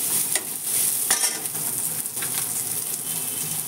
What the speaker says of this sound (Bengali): আজকে বাঁধাকপি একদম সরু সরু করে কেটেছি। এটাকে দিয়ে আরও কিছুক্ষণ নাড়িয়ে নিলাম।